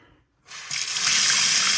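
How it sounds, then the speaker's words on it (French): Water from a tap gushes strongly after a brief silence once the supply is opened, a steady close hiss that builds and holds, heard alone. "Il faut ouvrir l'eau."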